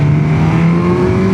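A 2025 Suzuki GSX-S1000GX sport-touring motorcycle revs on the road, its engine pitch climbing smoothly under a steady, loud whine, close to the rider and with no talking.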